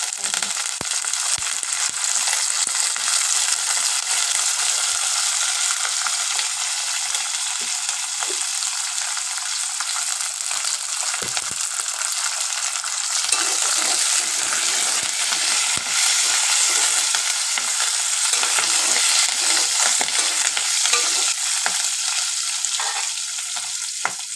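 A pan of frying for a ridge gourd and moong dal curry gives off a loud, continuous hissing sizzle dotted with fine crackles, holding steady and close for the whole stretch with no voices.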